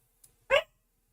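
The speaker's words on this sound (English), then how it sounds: "Esa, she just barked." A single short bark from a female dog, fairly close and alone, with a faint small sound just before it.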